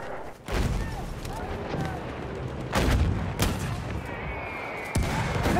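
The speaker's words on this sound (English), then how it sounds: "Look out! Machine gun!" Video game battlefield gunfire rattles in heavy bursts, with sharp, loud cracks and booms punctuating a continuous din of combat, mixed with shouting voices.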